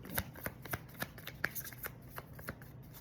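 A deck of tarot cards is shuffled by hand, giving a quick series of soft crisp riffles and flicks in an uneven rhythm. The sound is close and quiet, with no talking.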